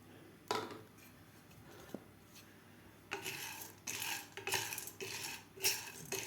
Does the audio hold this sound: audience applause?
no